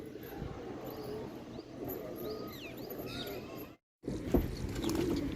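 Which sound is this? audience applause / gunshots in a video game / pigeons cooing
pigeons cooing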